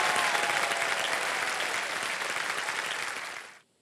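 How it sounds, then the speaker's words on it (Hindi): A studio audience on a televised quiz show breaks into loud, dense applause that holds steady for over three seconds before cutting off abruptly. "एक बार जोरदार तालियां बज जाए"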